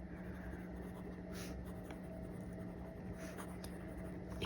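TWSBI Go fountain pen with a broad nib writing on paper, faint scratchy strokes in short bursts over a quiet background hum.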